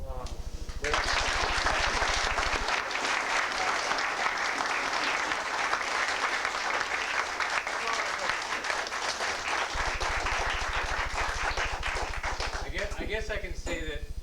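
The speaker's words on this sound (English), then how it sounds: "really owe him a good round of appreciation and applause" Sustained applause from a banquet crowd honoring a football coach, dense clapping running steadily for most of the span with a voice briefly heard near the end.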